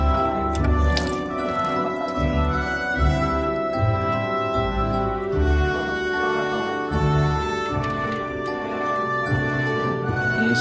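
Flushing oil drains from a car engine after a five-minute run, a continuous wet dripping and squishing flow with a pulsing, uneven rhythm, close and fairly loud.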